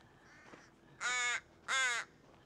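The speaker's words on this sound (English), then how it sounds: "Oh, hello, crow." Two loud, harsh caws from a crow in an outdoor setting, each about a third of a second, separated by a short pause, standing alone over faint background noise.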